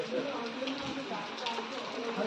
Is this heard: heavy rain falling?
yes